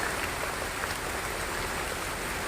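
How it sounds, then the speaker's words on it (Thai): Steady rain pours over a home kitchen garden, a dense, continuous wash of patter with no breaks and no voices. "นี่ฝนตกนะคะ"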